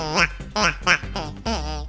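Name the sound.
hunting decoy call imitating a duck quack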